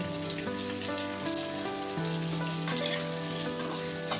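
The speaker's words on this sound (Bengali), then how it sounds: "এবার আমি হাফ চামচ মতন হলুদ আর হাফ চামচ মতন নুন দিয়ে ভালো করে নাড়িয়ে চাড়িয়ে নেব।" Potatoes frying in mustard oil with turmeric and salt, a dense, continuous close sizzle broken by repeated scraping stirs in the pan.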